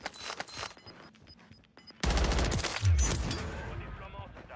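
Gunfire erupts in a video game, starting with scattered distant shots and then breaking into a loud, dense burst of rapid automatic fire and heavy impacts, with someone talking under the shooting.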